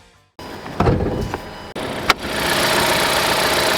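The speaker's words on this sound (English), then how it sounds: "Powering the big turbo Tiguan is a 2-liter 4-cylinder that goes through an 8-speed." Idle of a 2026 VW Tiguan R-Line with a turbocharged 2.0-liter four-cylinder and 8-speed gearbox, a steady broadband hum settling in after a couple of brief knocks and clicks, close and moderately loud with no talk.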